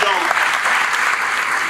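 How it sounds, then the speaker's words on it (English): Audience at a team headquarters grand opening applauding loudly and steadily in a full burst of clapping, with a voice briefly audible at the very start. "we can give him a round of applause"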